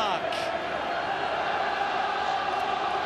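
A stadium crowd at Craven Park roars steadily during a Hull KR versus Hull rugby league derby, a dense, continuous wash of cheering underneath a commentator's voice.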